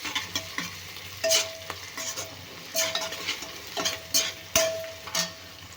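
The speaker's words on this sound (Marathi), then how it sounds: "आणि आता घालूया आलं लसूणची पेस्ट. तर इथे 1 चम्मच मी घेतली आहे. तेही परतून घेऊया." Ginger garlic paste sizzles softly in hot oil as a spoon scrapes and clinks against the pan in irregular strokes, close and fairly quiet, with no voices.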